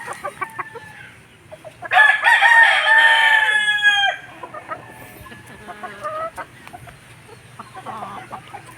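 Gamefowl roosters of the Mersim Black and Sweater breeds crow loudly in one long, harmonic call close by, with softer clucks and other fowl noises around it on a quiet farm.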